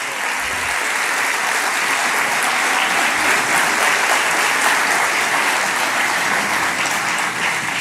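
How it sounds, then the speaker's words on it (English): Sustained applause from a conference audience honoring the inaugural TEA Masters at SATE 2018, a steady dense wash of clapping for several seconds with no talk over it. "So one more round of applause for our magnificent 7, the TEA Masters."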